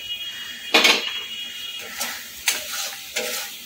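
Salted pointed gourd pieces tipped into a hot pan and stirred, giving a few sharp bursts of sizzle and scraping over a quiet background.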